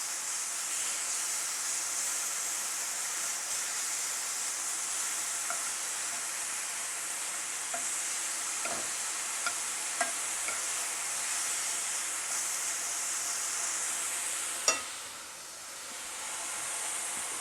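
Spam slices fry and crisp in a pan with barbecue sauce layered on top, giving a steady close sizzle that runs the whole time, with a few small pops and one sharp clack near the end.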